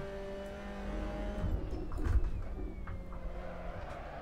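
Race car engine in Assetto Corsa bogging down at low RPM, a steady, strained drone with a couple of low swells, close and continuous, no talk over it.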